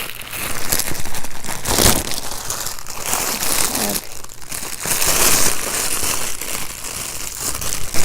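Plastic packaging crinkling and crumpling as clothes are unboxed, a loud, continuous rustle close to the listener with sharper crackling bursts throughout and no speech.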